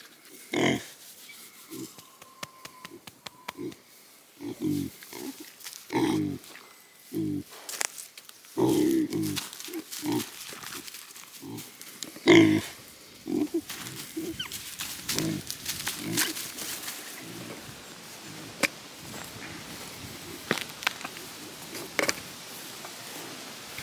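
Pigs on a homestead grunt in short, repeated bursts, some close and loud, others fainter, scattered irregularly over a low background of farm noise.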